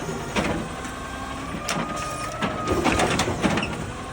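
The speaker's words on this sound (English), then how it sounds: "Playing with the arm a little bit until it fully retracts and lines up with the other two holes." Hydraulic side-loader arm on an Amrep garbage truck in Los Angeles retracting into its stowed position, a steady mechanical whine and hum with scattered clanks and knocks, close and fairly loud with no talking.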